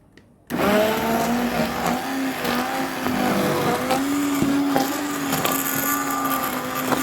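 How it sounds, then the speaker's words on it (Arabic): An electric grinder blitzes biscuits for a caramel flan cake, a steady loud whirring motor sound starting abruptly after a short silence and running continuously with slight pitch shifts, with no voices. "غادي تطحنوا هذا البسكوي حتى ما يبقاش يبان في الخليط"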